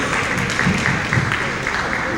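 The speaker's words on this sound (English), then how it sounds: "Round of applause." A short round of applause from a seminar audience, clapping mixed with crowd murmur and some voices underneath, fairly loud and close.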